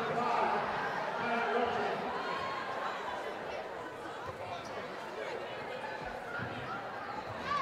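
A high school gym during a girls basketball game at Southside High School carries a steady, dense crowd murmur with occasional shouts and ball bounces, under a commentator's voice throughout.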